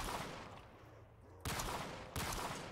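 Gunfire in Call of Duty Zombies: a dense crackle of shots throughout, with two sharp, louder blasts standing out in the second half, close and without talk.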